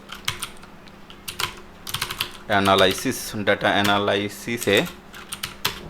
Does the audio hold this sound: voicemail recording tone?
no